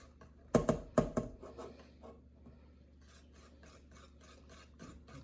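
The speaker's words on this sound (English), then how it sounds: "I'm gonna add a little bit of cheese. I'm gonna whisk that in there." A whisk working grated cheese into a sauce for mac and cheese in a pan: a few sharp knocks against the pan first, then soft, rhythmic scraping and stirring close by.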